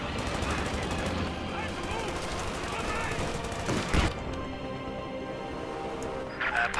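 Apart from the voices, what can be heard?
gunfire in Company of Heroes 2 video game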